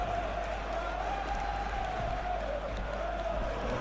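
A football stadium crowd on matchday makes a steady, distant roar with a faint sustained chant-like tone, constant and even throughout.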